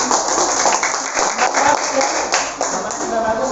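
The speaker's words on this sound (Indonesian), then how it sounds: "Beri tepuk tangan untuk kelompok 3." Students in a classroom give group 3 a round of applause, dense clapping that continues steadily for a few seconds.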